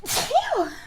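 A single sharp sneeze, close and fairly loud, with a breathy burst followed by a rising and falling vocal tail.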